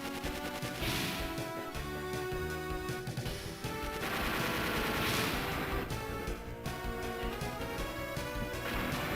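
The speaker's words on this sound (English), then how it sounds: "it's got a Gatling gun unit" Gatling gun unit blasting in the turn-based giant robot animal RPG Zoids Saga II: rapid mechanical firing and crashing hits run continuously under layered game music, steady and fairly quiet overall with no talking.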